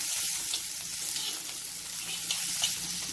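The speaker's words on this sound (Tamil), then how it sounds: "இதுவும் தக்காளியும் சேர்ந்து நல்லா வதங்கட்டும்." Chopped tomatoes and onion sautéing in oil in a pan for Chettinad katla fish gravy, a steady close sizzle and crackle with soft stirring scrapes, no voices.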